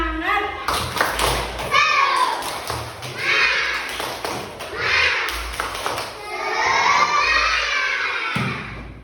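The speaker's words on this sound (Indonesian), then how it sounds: "Sekarang sebelum kita melakukan pembelajaran, kita bertepuk tangan yuk." First-grade pupils in a primary school classroom clap their hands together in quick rhythmic bursts while shouting and chanting in unison, loud and close, with a few thumps between the claps.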